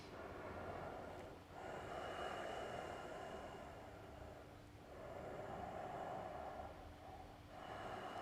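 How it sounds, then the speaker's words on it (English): Slow, deep breathing during a seated yoga hip-opening stretch: about three long inhale-exhale cycles, steady and close, each breath rising and fading with brief pauses between, and no talking. "I'll take 3 more breaths."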